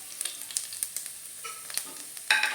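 Chopped garlic fries in hot oil with mustard seeds, a soft, steady sizzle with small crackles and a louder burst near the end.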